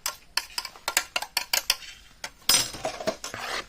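Plum cake batter being mixed in a bowl, with a brisk run of clinking, tapping strokes of a utensil against the bowl, close and fairly loud, then a denser scraping stir.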